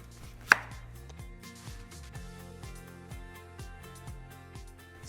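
A knife chops zucchini into half moons on a cutting board, with one sharp knock at the start and then a steady run of quick rhythmic cuts close by.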